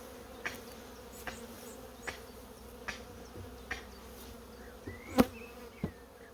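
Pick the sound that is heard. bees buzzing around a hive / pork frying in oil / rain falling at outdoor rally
bees buzzing around a hive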